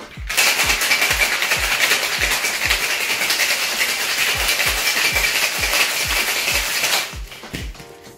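A gin cocktail gets a hard shake in a metal shaker tin: a steady, loud, close rattle of ice with quick rhythmic beats runs for about seven seconds and then stops abruptly.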